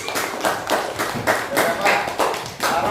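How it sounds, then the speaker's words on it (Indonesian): A classroom group of students claps for a presenting team, with a steady run of close, brisk handclaps repeating through the clip and voices mixed in. "Beri tepuk tangan untuk kelompok 5."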